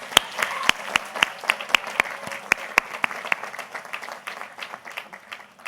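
Sparse audience applause at a 2024 Darden graduation ceremony, with distinct individual claps sounding at close range over a softer wash of clapping from the wider crowd, holding steady for several seconds.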